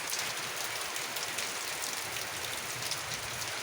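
Heavy rain pours steadily in a dense, loud hiss, with water dripping from a roof mixed into the continuous downpour. No one speaks.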